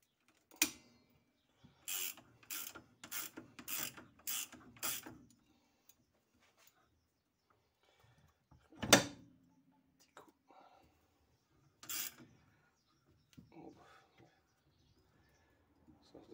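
A ratchet wrench turns on the rear shock absorber mount of a Volkswagen Jetta, giving a run of six quick, evenly spaced clicking bursts up close, followed by a few isolated clicks and clanks with long quiet gaps between them.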